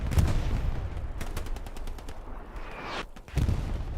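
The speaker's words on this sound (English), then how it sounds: "Artillery shell lands at the back." An artillery shell lands in the World War II shooter Hell Let Loose, a heavy blast amid a loud, continuous clatter of gunfire and explosions at mid distance, with a second thud near the end.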